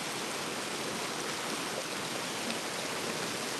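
Waterfall formed over exposed tree roots on a homestead, heard as a constant, dense rushing of falling water, steady and unbroken, with no voices.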